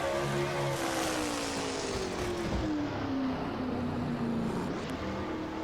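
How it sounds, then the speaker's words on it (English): Racing truck engine in a racing sim at Riverside, braking hard for a corner and dropping to first gear; a steady loud engine drone with a falling pitch sweep through the clip, no talk. "he'll brake very hard for turn number 6. And down about 54 miles an hour in first gear goes number 50"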